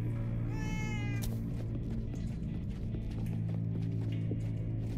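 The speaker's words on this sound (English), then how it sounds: "Well, there's where the meowing's coming from." In the video game Minecraft Story Mode, a cat meows clearly with a rising, wavering call near the start. A sharp thud follows, then low ambient game music and footstep-like clops continue underneath.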